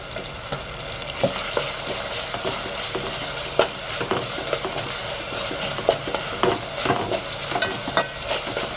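Tomatoes sizzle and fry in a pan for spicy matki amti, a Maharashtrian sprouted moth bean curry, with steady loud crackling and repeated scraping stirs throughout, no voices.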